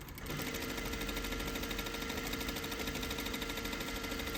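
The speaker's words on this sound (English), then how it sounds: "I'm gonna continue my stitch with the regular seam. So we're going to sew a little bit, we're going to back tack" A sewing machine stitching a regular seam while putting in a centered zipper, running as a steady, continuous mechanical whir from start to finish, close and alone with no voice.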